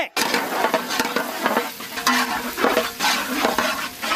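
Peeled garlic frying in hot sesame oil, with a loud, steady sizzle and repeated sharp scrapes and clinks of a utensil stirring in the pan, close up and without talk.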